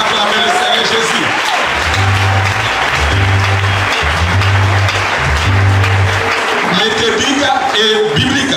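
A church congregation applauds and cheers in praise, broad sustained clapping filling the room over music with a low bass line, voices mixed into the crowd noise.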